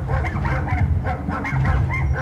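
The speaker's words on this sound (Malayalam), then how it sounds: "ഒരു പാട്ട് മാത്രല്ല പട്ടിയുടെ സൗണ്ട് കേൾക്കാണ്ട് ഈ വീടിന്റെ ഉള്ളില്" A dog barks inside a house in the video game GTA 5, repeated close yelping barks over a steady background of music.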